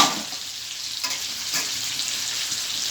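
Potato and pumpkin pieces frying together in oil, a dense, even sizzle with faint stirring, steady and close with no voices.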